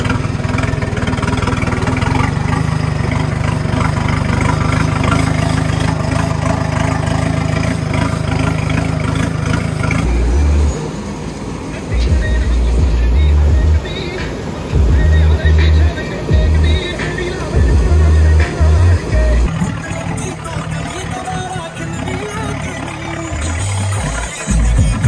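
A Swaraj 855 tractor engine runs steadily and loudly throughout, a continuous low diesel rumble that shifts and pulses partway through, with people talking over it.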